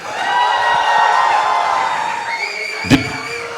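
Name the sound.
audience applauding and cheering for Deepika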